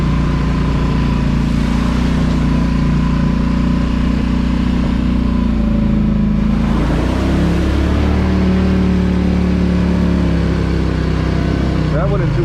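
ATV in two-wheel drive on a forest trail near Leota, Michigan, its engine droning steadily and loud throughout as it churns through mud puddles, with a rider's voice talking over the engine noise.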